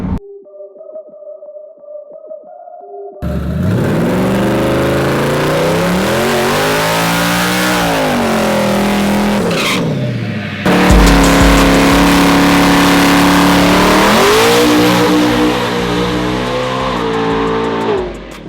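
A loud diesel drag race car engine revs repeatedly up and down during testing, its pitch sweeping with each throttle blip, with a brief pause between bursts.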